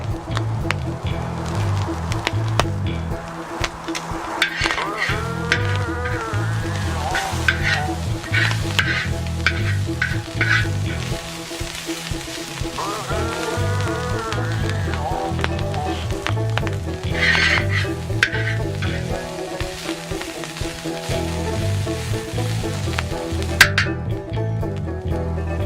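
Corn kernels char and pop in a hot discada with Cajun rub, a steady sizzle broken by frequent sharp popping bursts and scraping of a utensil across the metal, close and continuous without talking.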